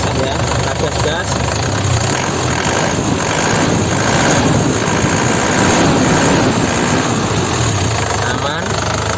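Turbo diesel engine of a black 2011 Isuzu Panther LS Turbo, running loud and close with a steady rumble that rises a little as it is revved, while someone talks over it.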